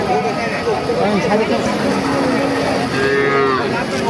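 Cattle low and moo at a busy livestock market in Khochabari, Thakurgaon, with several drawn-out calls overlapping amid constant crowd chatter and nearby voices talking.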